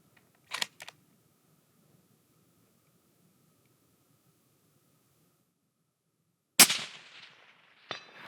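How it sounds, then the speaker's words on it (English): Two shots from a 7mm PRC rifle firing at rock chuck targets 335 yards away: a sharp report near the start, then a louder crack with a long trailing echo later, and a faint distant metallic hit. "First thing that we did was shoot rock chuck targets at 335"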